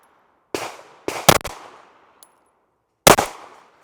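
A SIG P365 XMacro pistol fires sharp, close shots outdoors: a single shot, a quick cluster of three or four, then another shot after a pause, each with a short echoing tail.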